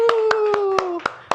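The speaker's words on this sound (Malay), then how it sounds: "Bagi tepukan sikit." Children in a Year 1 class clap their hands in a short burst of sharp, evenly spaced claps while a voice talks or sings over them.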